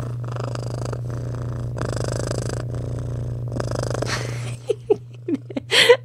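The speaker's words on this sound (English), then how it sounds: "my cat is really happy just to play with my microphone" A pet cat purrs loudly and closely while playing with a microphone, a steady rumbling purr for several seconds, then breaks into short snuffling breaths and sniffs near the end.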